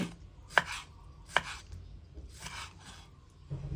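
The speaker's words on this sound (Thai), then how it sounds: "หนังหมูเริ่มเย็นแล้วนะคะ เราก็เอามาหั่นเป็นชิ้น" A knife chops cooled pork skin into pieces on a cutting board, with a few distinct, sharp chops spaced about a second apart, close and moderately quiet.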